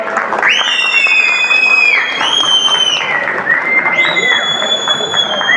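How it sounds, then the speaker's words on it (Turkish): A crowd at a Turkish pigeon show applauds and cheers for the winner of the yellow-headed crested male class, with sustained clapping and shrill whistles rising over the noise. "Bir alkış alalım arkadaşımıza."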